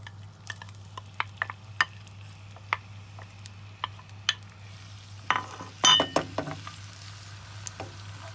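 Onion goes into hot oil for red lentil kofta, a soft sizzle under scattered spoon clinks and stirring scrapes, with a louder cluster of clatter toward the end.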